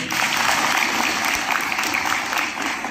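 An audience claps loudly and steadily at a public speech, dense applause from a sizable crowd filling the whole stretch without a break.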